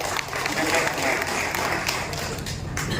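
An audience at an honouring ceremony for former volleyball and kabaddi players in Kowad applauds, a steady moderate wash of clapping heard from a little distance, with some voices underneath.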